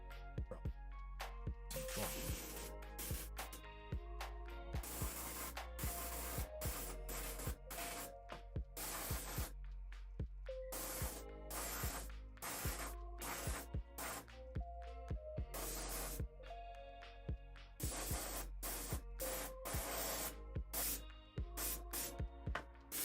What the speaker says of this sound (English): this is a cheap airbrush, not a super expensive